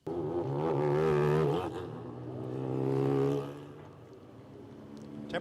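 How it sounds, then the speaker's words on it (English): A field of Mazda-engined race cars rolling out onto a 4-mile, 14-turn road course, engines rising in a loud sustained drone, easing, then swelling again before fading, close by with no voices. "Mazda engine note,"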